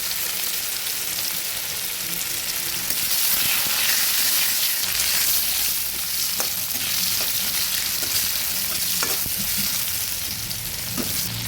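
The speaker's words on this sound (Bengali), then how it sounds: "তেজপাতা আর শুকনো লঙ্কা ভাজা হয়ে গেলে এবার দিয়ে দেবো কুচনো পেঁয়াজ।" Chopped onion hits hot oil already holding bay leaf and dried red chilli for a fish-head muri ghonto, giving a loud, dense, continuous sizzle with a few faint stirring knocks.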